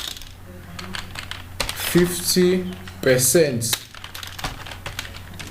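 Keys clatter on a computer keyboard while special characters are typed into a LaTeX document, with short bursts of close, crisp keystrokes under a person speaking.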